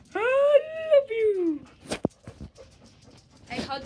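Several dogs give high whimpering whines at the start, with some panting and snuffling afterward, close by and fairly loud, while a person speaks affectionately to them.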